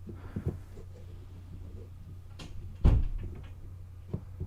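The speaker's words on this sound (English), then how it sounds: "Somebody's closing the door." A door being closed indoors, heard as a single solid thud partway through against a faint low hum, with a few softer knocks and bumps around it.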